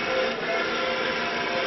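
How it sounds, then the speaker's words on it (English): A working model train runs along a newly built track layout, giving a steady, even rolling whir that holds at one level throughout, close and continuous, with no voices over it. "And there goes my train."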